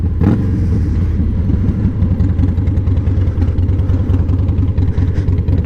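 A 2003 Harley-Davidson Fat Boy with a Stage II engine runs up close and loud, its low, loping V-twin rumble pulsing steadily throughout with small surges of throttle.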